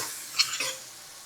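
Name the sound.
onions frying in a pan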